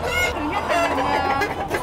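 Dương Việt roosters raised together in a pen on a chicken farm cluck and crow, with several overlapping calls at close range.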